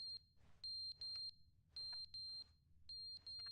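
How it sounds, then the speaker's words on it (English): Repeated high electronic alarm beeps in short bursts, loud and close, sounding like a smoke detector or alarm going off in a Stanley Parable game scene over a low rumbling background. "What the hell's beeping?"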